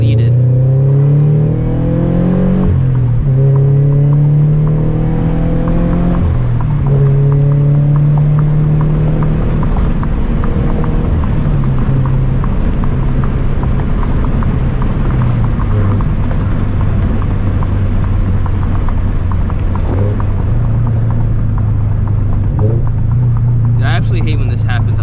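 A Toyota 86/BRZ fitted with a cheap eBay exhaust, an unequal-length header and deleted resonators revs and drones loudly, its pitch rising and falling through gear changes under talk from inside the car.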